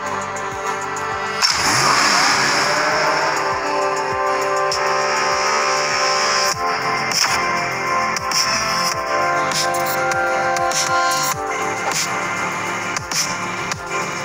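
A racing video game on an Advan phone plays a car engine revving and accelerating, loud and continuous over game music and effects, with repeated gear-shift pulses.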